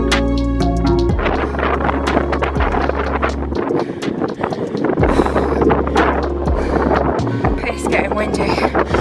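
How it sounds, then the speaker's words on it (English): Strong gusting storm wind on Ben Nevis roars and buffets the microphone in heavy, uneven blasts, loud and close throughout. "My God, the wind it is strong and it is fast."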